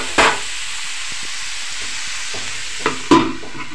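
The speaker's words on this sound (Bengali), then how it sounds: "এখানে একটু নেড়ে নিয়েছিলাম, ভালো করে নেড়ে নেব।" Mixed vegetables fry in a pan with a steady, hissing sizzle, broken by a few sharp scrapes and clacks of a spoon stirring, close and with no talking.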